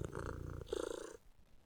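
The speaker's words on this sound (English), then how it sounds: "That was the cat purring." A cat purrs in the video game UnderRail, a short, close, steady rumble that breaks off briefly and then resumes before stopping.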